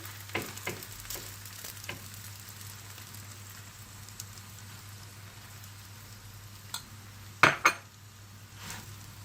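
A layered poppy-seed katmer flatbread fries in oil in a pan, giving a steady close sizzle broken by a few sharp metallic clinks of a utensil against the pan.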